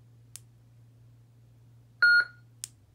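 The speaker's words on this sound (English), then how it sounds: "cycle through the sound fonts by pushing and holding the auxiliary button until it beeps" A lightsaber hilt sounds a single short electronic beep as its sound font changes, a clear tone over a low steady hum, with faint clicks just before and after.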